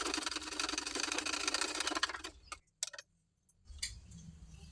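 A sewing machine stitches the crossed joint of a neck strip for a girl's top. It runs in a fast, even, close whir for about two seconds, then stutters and stops, and a few faint clicks and a short restart follow.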